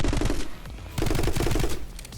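Rapid bursts of automatic gunfire from the My Friend Pedro video game during a boss fight: loud, sharp shots in quick succession with a short pause between two volleys.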